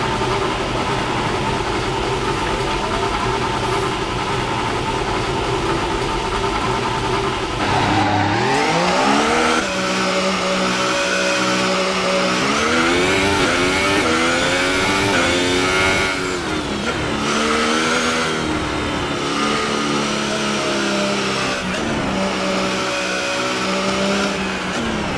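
An F1 race car engine in the F1 2018 video game, an Alfa Romeo Sauber lapping in practice at China, whining loudly and continuously, with pitch rising through the gears, dropping for corners and climbing again.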